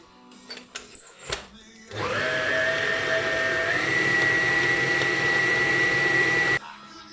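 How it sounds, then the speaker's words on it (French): An electric mixer beats eggs with granulated and candy sugar, a few handling knocks first, then a steady loud whirring drone for about five seconds before it stops. "Ce n'est pas terminé, je vais continuer à battre le mélange."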